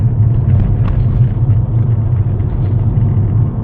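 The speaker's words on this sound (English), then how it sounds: "driving on these bumpy roads in sport mode is a task" Mercedes-Benz A45 AMG Petronas Green Edition driving over bumpy roads in sport mode, with a steady loud low rumble of engine and road noise running throughout, no voices.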